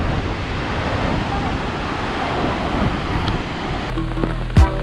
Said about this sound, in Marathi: उंच अशा वाहणाऱ्या लाटा, वारा आणि मोठ्याच मोठ्या येणाऱ्या लाटा